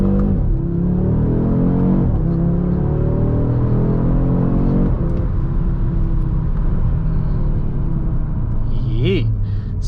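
A 2023 Audi RS 3 engine is heard from inside the cabin while driving, loud and steady, with rising harmonic sweeps as it accelerates through the gears and a rumbling drone underneath.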